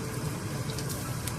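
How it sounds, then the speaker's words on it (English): Bean curd pancakes about 2 centimeters thick deep-frying in thick oil, giving a steady, dense crackle and sizzle throughout at moderate level, with no voices. "And you see it's really frying."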